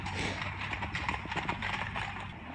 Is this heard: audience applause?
no